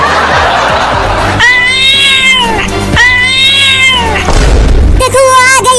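A cat meows loudly and close in three drawn-out, wavering cries, with rustling and a thud between them.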